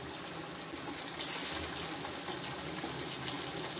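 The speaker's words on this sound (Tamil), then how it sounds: "இப்போ முட்டை உடச்சி வச்சுருக்கோம், அதை ஊற்றிக்கிறோம்" Beaten egg is poured into a pan of tomato curry for Tamil egg curry, giving a steady soft liquid pouring and sizzling wash that stays even and moderately quiet throughout.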